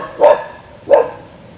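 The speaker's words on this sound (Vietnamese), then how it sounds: "Sủa tôi làm chi vậy?" A dog in an abandoned cemetery gives two sharp, close barks spaced a little under a second apart, with a quiet pause after each and no one talking.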